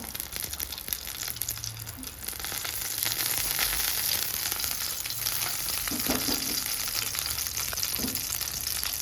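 Two dried red chillies hit hot mustard oil in a kadai for a Bengali chalta chutney, giving a steady close crackling sizzle that swells after a couple of seconds and keeps going with faint stirring scrapes.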